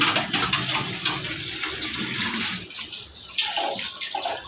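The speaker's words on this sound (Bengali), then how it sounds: "থালাবাটিগুলি সব ধুয়ে নিচ্ছে" Dishes being washed under running water from a tap in a home kitchen, a steady, close splashing rush with small clinks and shifts as items pass under the stream.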